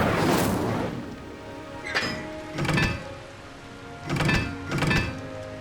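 A fire spell cast in the video game Hogwarts Legacy, heard as a loud whooshing burst followed by several shorter flaring whooshes at irregular intervals, close and up front.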